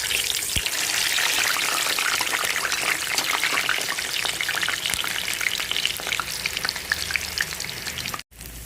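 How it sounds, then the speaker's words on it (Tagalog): Tofu fries in hot oil in a Teflon pan, giving a loud, dense and continuous close-up sizzle with crackling spatters that carries on for several seconds before cutting out briefly near the end. "Ayan, mainit na yung mantika. Ilagay ko na ang"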